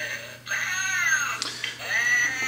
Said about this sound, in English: Makes cute little zombie cat sounds and light up eyes, turning head.